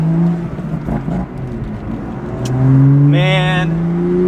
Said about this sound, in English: Frank is letting me drive the M2, and oh man, this is not good, guys